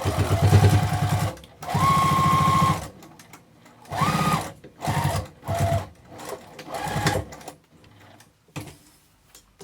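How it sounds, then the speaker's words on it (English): A sewing machine stitches a Bristol zipper pouch in loud, close bursts of rapid mechanical whirring, each lasting a second or so and separated by short pauses, with the runs getting shorter toward the end. "it's easier for me to sew it"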